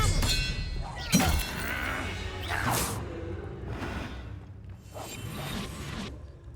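A spell cast in the Hogwarts Legacy video game, heard as swishing whooshes and a sharp crashing impact amid layered game effects and ambient noise, with a few bursts of spoken dialogue mixed in.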